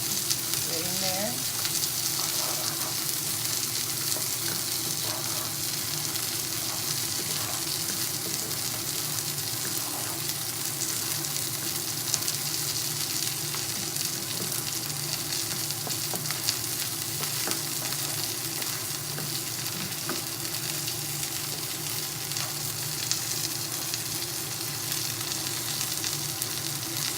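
Risotto rice sizzles steadily in a pan while more liquid is added and the rice is stirred, a constant close frying hiss with faint scraping.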